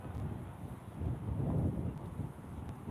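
Strong wind outside a football stadium before a Başakşehir–Galatasaray match, a low rumbling buffet against the microphone that swells and eases without a break.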